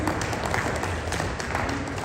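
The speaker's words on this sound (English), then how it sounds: "Can we give a warm applause?" Audience applause at a conference on baseline research findings, a dense, continuous wash of many hands clapping at steady loudness throughout.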